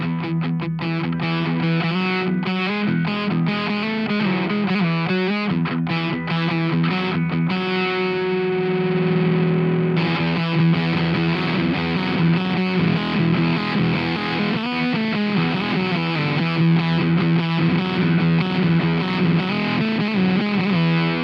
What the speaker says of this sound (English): I like the muffy kind of fuzz